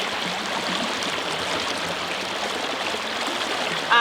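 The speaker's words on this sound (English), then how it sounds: "the water is flowing through just quite nicely naturally" Water rushes steadily through a small sluice box set in a stream, a continuous broadband gush and babble that stays loud and even throughout, with no voices.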